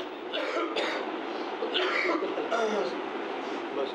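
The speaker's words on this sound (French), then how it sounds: "nous simulons une quinte de toux afin qu'il arrête le ventilateur" A deliberately faked fit of coughing, several harsh close coughs in quick bursts mixed with throat clearing in a quiet room.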